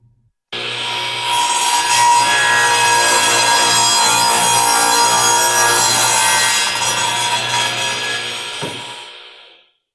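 Sears Craftsman radial arm saw making a 45-degree miter crosscut through wood: a loud, close, steady cutting whine lasting about nine seconds, then winding down, with no talk.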